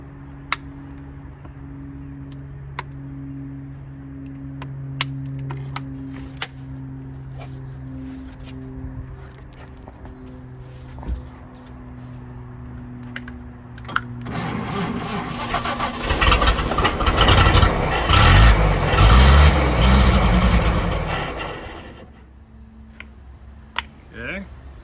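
A 1938 Chevy coupe engine cranks with sharp ticks, then catches and runs loud and rough for several seconds before dying back down, close to the car.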